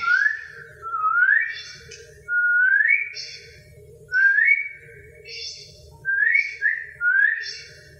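A person whistles a repeated rising two-note call, several times with short pauses between, over faint background noise.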